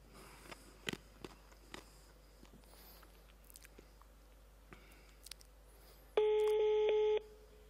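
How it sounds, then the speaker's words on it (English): Telephone ringing tone from a forwarded call, a single loud electronic ring burst near the end after quiet room noise with small clicks and handling sounds. "this phone is ringing, right?"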